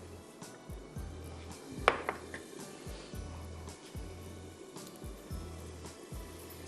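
A marinade with olive oil is mixed in a bowl: soft, rhythmic scraping strokes repeat steadily, with one sharper clink of a utensil against the bowl, close and fairly quiet.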